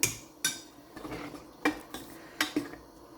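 A spoon clanks and scrapes against a pan as fried onion tempering goes into snake gourd and chana dal kootu, giving about five sharp metallic knocks with quiet stirring between them.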